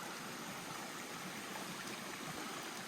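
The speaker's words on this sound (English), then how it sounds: "Another little mountain stream that was easy to cross because the water level is low." A small, low mountain stream on a hiking trail, its water rushing in a steady, quiet, continuous wash with no other sounds or voices.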